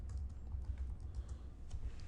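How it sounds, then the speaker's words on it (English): Steady run of keystrokes on a computer keyboard as a name is typed into an Office 365 web app, close and fairly quiet, with no talking. "So if we type in Helen here"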